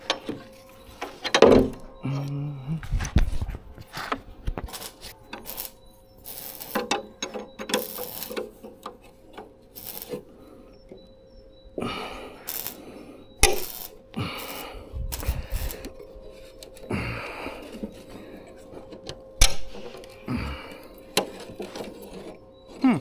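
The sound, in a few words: ratchet loosening bolts on Scania 143H truck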